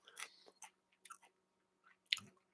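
Deep-ridged Lay's Craft Beer Flavour potato chips are bitten and chewed up close, giving a few sharp, crisp crunches separated by quiet pauses, with no talking.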